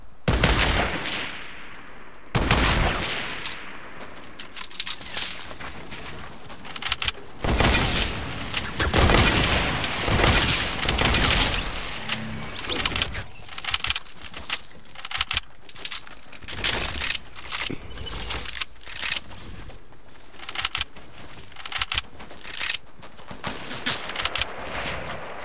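Semi-automatic gunfire in an online shooter match, loud bursts of sharp shots and booms recurring irregularly throughout, some rapid strings and some single cracks, close and dominant with little else audible.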